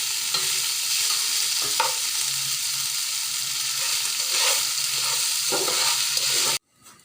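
Boiled rice for sweet zarda pulao being stirred in a pan with hot oil and cinnamon sticks, a continuous close sizzle with repeated scraping strokes of a spoon, ending abruptly in near silence.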